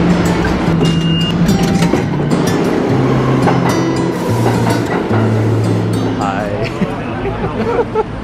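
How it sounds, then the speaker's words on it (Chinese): A New York City subway train on a rainy day, a loud rumbling rolling roar with rising and falling mechanical tones and rattling, heard close amid crowd babble and people talking. "我们赶紧去搭地铁"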